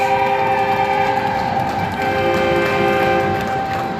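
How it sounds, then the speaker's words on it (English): A foghorn sounds at a hockey game arena, a sustained loud tonal blast holding steady for several seconds over broadband crowd noise. "Where the hell did the foghorn come from?"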